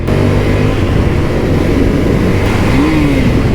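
Ducati Scrambler 900 motorcycle engine while riding on Los Angeles roads, a steady loud drone with a rising rev near the end, wind noise throughout, no talking.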